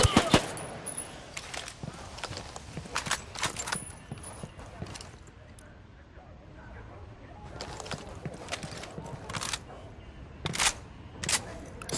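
Bursts of rifle and machine-gun fire crack in Ghost Recon Wildlands during a firefight with a sniper. Sharp clusters of shots come in uneven volleys, with a quieter lull in the middle, and voices speak over the shooting.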